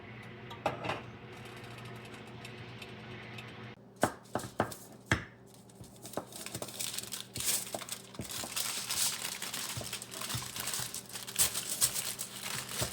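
Aluminium foil crinkles and crackles in close, irregular bursts, with a few sharper crunches as it is pressed and folded.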